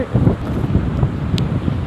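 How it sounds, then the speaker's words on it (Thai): Wind buffets the microphone in steady gusts at Mai Khao beach in Phuket, loud and close, with faint surf-like rushing underneath and no clear speech. "ดูลมดิผมยุ่งเลย"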